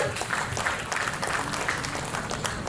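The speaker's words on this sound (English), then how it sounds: "A round of applause for madam" Short burst of audience applause at an inauguration event for the treasurer, a dense mix of clapping hands that holds steady with a murmur of crowd underneath.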